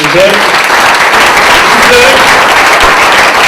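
Loud, dense applause from a theatre audience at a stage play, steady and sustained throughout, with a few whistles and voices mixed into the clapping.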